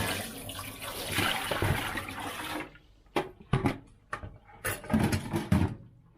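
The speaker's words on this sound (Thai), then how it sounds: "นี่ต้องล้างประมาณหลาย ๆน้ำจักหน่อย ขนที่มันติดมากับผักกูดล้าง" Wild fiddlehead ferns are washed to remove their fuzz, first under a steady rush of running water and then with a series of splashes and sloshes as the water is swished about.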